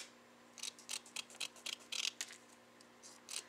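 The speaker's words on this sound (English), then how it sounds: "now I'm just going to cut them in strips" Quick, crisp snips of scissors cutting ribbon into strips in uneven bursts, close and fairly quiet, with short pauses between the cuts.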